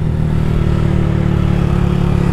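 A motorcycle's engine roars close and loud as it is pulled up into a second-gear wheelie, holding a steady, buzzing high-rev drone for the whole short stretch.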